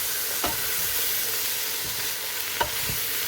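Washed cracked wheat (frik) goes into a hot pot and is stirred, making a continuous frying hiss broken by a few sharp, close scraping knocks, with no voices.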